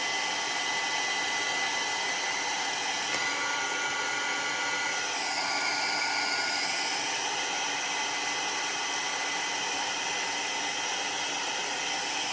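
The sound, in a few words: heat embossing gun drying paint on salt dough ornament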